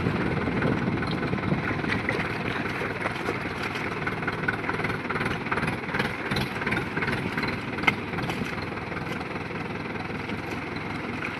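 A farm tractor engine idles and runs steadily in an open field, a low continuous rumble with wind buffeting the microphone throughout and no speech.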